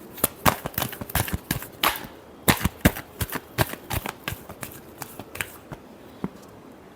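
Tarot cards being shuffled by hand, a rapid run of crisp riffling snaps in quick bursts with short pauses between, close and clear with no talking.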